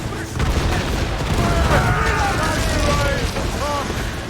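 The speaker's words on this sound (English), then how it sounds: "Cannon ready! Enemies firing! Fire! Fire in defense!" Ship cannons boom in a naval battle in Assassin's Creed Rogue, a dense continuous barrage of blasts and rumble under shouted crew commands and battle noise.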